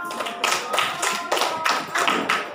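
A small group claps in short bursts for a student who passed a spelling test, about six or seven rhythmic rounds of claps close by.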